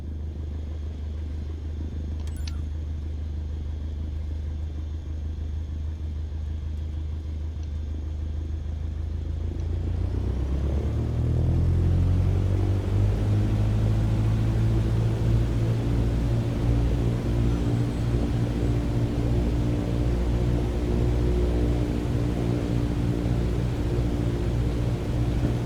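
A simulated plane in Microsoft Flight Simulator 2020 with engine rumble steady at first, then rising in pitch and growing louder as it taxis into position, a continuous droning hum with no voices.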